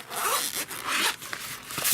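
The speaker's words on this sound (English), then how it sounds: "Unzip it." A zipper being opened on a Filofax Pennybridge tablet case: a continuous close rasping pull lasting about two seconds, with small shifts in pace, and no talking.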